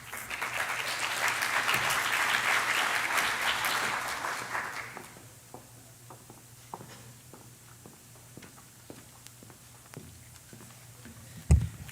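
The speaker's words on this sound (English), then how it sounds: "Please join me in giving a round of applause for all the presenters and the recipients tonight, please." Audience applause at a school's senior community awards ceremony: dense clapping from a crowd for about five seconds, then stopping abruptly and leaving scattered taps, shuffles and a final thump in a quiet hall.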